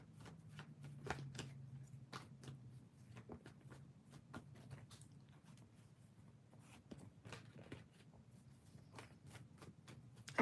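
Tarot cards are shuffled quietly and repeatedly, soft riffling and tapping sounds in an otherwise quiet room.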